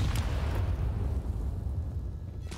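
Molotov cocktail bursting into flame in CS:GO on the Overpass map during an ESL Pro League match: a loud, rushing whoosh of fire that roars steadily for a couple of seconds.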